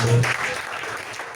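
A church congregation claps and cheers during a French-language service, a brief loud burst of applause that quickly tapers off.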